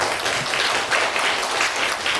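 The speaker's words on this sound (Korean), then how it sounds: "먼저 좋은 강연해 주신 우리 기자님께 다시 한번 박수 보내주시면" An audience applauds after a lecture at a public lecture series, steady dense clapping filling the whole moment at moderate loudness.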